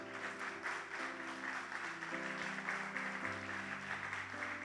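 A church congregation claps steadily throughout, a dense wash of applause over sustained organ or keyboard chords.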